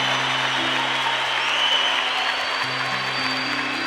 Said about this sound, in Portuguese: Pode aplaudir com força, pode aplaudir com muita força.